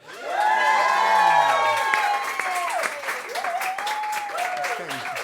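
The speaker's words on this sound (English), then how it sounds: "Could you give a massive round of applause for the wonderful Chris Reed?" A live audience breaks into applause and cheering for a performer, the crowd swelling quickly and staying loud, while a voice rises and falls over the noise.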